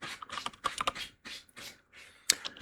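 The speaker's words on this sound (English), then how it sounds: "sorry, I do type really slow." Slow, irregular keystrokes on a computer keyboard, close and clear, with uneven pauses between short bursts of clicks and no talking.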